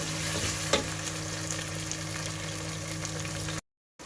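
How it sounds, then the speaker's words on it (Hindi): Onions fry with ginger garlic paste in a pan for beef pasanday, a steady close sizzle with a brief stir clatter near the start, then a sudden cut to silence at the end. "इस पॉइंट पे हम 1 टीस्पून इसमें अदरक लहसुन का पेस्ट डालेंगे। ठीक है जी, और इसके साथ इसको करते हैं अच्छे से फ्राई।"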